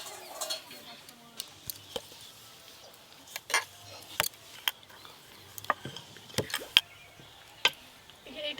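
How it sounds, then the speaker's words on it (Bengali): A rolling pin works paratha dough on a stone board, giving sparse, irregular sharp taps and knocks spaced a second or so apart over a quiet kitchen background. "এই পাথরটাই আজকে বড় করে পরোটা বেলবো।"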